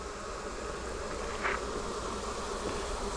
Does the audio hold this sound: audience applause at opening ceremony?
no